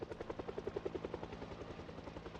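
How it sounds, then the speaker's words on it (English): A helicopter flies overhead, its rotor thumping in a fast, steady pulse that is loud and close at first, then fades slightly. "you can hear I've got the helicopter right now"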